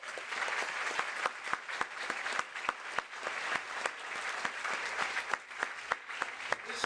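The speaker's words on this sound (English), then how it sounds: "You guys, please give our mayor another round of applause." Applause for the mayor at a town hall meeting, a steady wash of clapping with distinct sharp claps cutting through throughout, fairly even in loudness.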